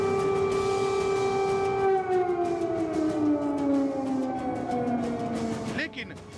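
An air raid siren wails steadily in Ukraine, one long sustained tone that slowly falls in pitch, loud and continuous, with a brief sharp noise near the end.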